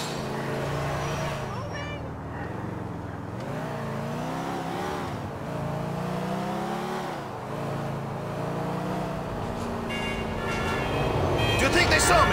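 A car engine revs and drones steadily while driving in Grand Theft Auto 4, pitch rising and falling with acceleration, loud and close, with game dialogue and background effects mixed in.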